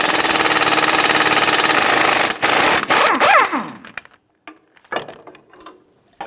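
A ratchet with a 30mm socket spins off a strut bolt nut on a 2007-2017 Ford Expedition front suspension, a fast continuous ratcheting whir that slows and stops, followed by scattered metallic clicks and clanks nearby.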